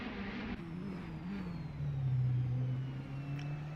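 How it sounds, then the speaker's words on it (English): A racing video game car with a turbocharged MultiAir engine holding a steady engine drone and turbo whir that rises slightly as it accelerates onto the back straight, moderately loud with no talk. "We hear the turbo going on that multi-air engine as we head onto the back straight"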